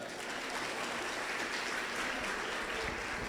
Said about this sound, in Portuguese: Uma salva de palmas para o Léo.